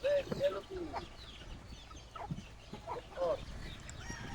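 Gamefowl chickens cluck and a rooster-like call rises in short bursts, close by, with faint background murmur between calls, on a breezy gamefarm.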